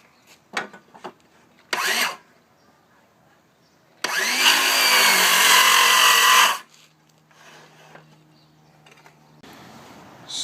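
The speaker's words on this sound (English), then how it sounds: "run the router down it and clean it up" Handheld wood router fitted with a 1/4-inch bit trims square pieces of wood, a loud steady whine running about two and a half seconds between short bursts of tool clatter and handling noise.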